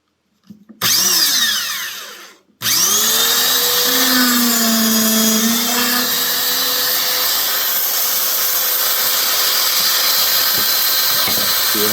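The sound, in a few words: Grizzly dual spindle dowel joiner drilling dowel holes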